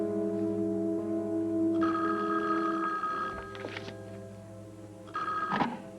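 A telephone rings in a quiet indoor scene, a steady electronic bell tone with bursts of brighter ringing, loud and close, with no talking over it.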